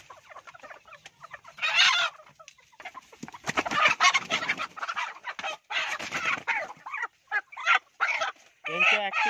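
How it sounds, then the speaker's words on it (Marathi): Village desi roosters and hens clucking and squawking in repeated bursts, close and loud, several birds calling over each other with short pauses between outbursts. "हे गावरान कोंबडे आहेत"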